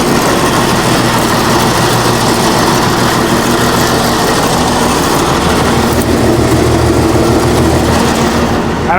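An old bulldozer's engine idles right after starting, a loud, steady, low diesel rumble that runs unbroken and close throughout, with no talk.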